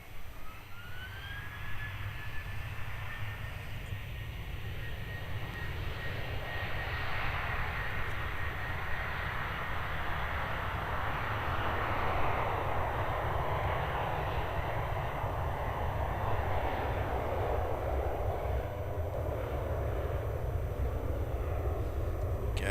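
The Retro Roo airliner rolls down runway 16 at Melbourne Airport, its engines spooling up into a loud, sustained roar with a rising whine, heard from a distance and steady throughout.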